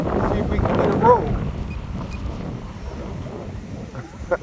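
Gusty wind rumbles and buffets the microphone outdoors during a windy RC P-39 Airacobra flight, a continuous, fairly loud roar with speech faintly mixed in.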